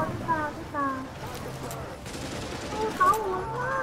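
Gunfire in The Division, a dense rapid burst of shots mid-distance mixed with game sounds, under excited chatter from players talking over it.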